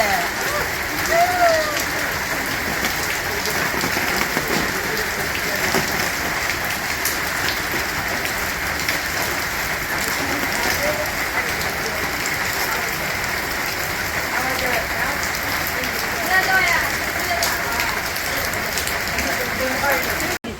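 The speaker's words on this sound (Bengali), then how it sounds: "এই যে একটু বৃষ্টি কমছে" Steady rain pours in a rural Bangladeshi village, a dense, loud, unbroken patter on surfaces close by, with faint voices talking under it.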